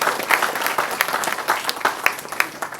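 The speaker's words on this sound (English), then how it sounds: "give a big hand of applause for all my students" A room full of people applauding, steady clapping throughout with no talking over it.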